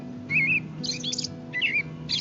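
Songbird chirping in short bright tweets and warbled phrases, repeated several times in quick bursts over a low steady background hum, with no speech.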